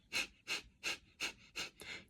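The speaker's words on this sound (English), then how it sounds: "you're panting, but you're doing it through your nose" Rapid, rhythmic nasal panting breaths of the kind done in ego eradicator Kundalini yoga, six sharp close exhalations about a third of a second apart, with no talking.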